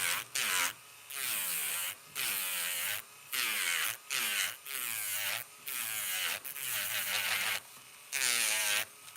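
Electric nail drill running at 9,000 RPM around the cuticles, a high whining buzz in repeated bursts of about a second with short pauses between, close and alone.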